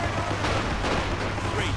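Gunfire striking a Panzer I tank in Men of War: Assault Squad 2 on Falaise, a continuous rattle of shots and impacts under steady engine rumble, fairly close and dense for the whole short stretch.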